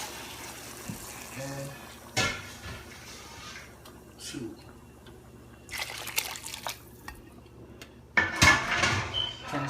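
Octopus and chicken stock is poured into a cooking pot with a liquid trickle, broken by clanks of pots and utensils. A person talks over it, and the sound grows louder near the end.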